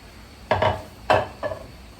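Vegetables tipped back into a pan and stirred while cooking Thai basil chicken, heard as three short scraping clatters of food and utensil against the pan, close and fairly loud against quiet.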